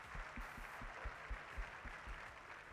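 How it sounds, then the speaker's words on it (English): Faint, distant crowd applause at an outdoor airshow after a military working dog demonstration, with scattered claps and low rumbling thumps under the wash, heard from far off. "Ladies and gentlemen, a round of applause for Cyclone."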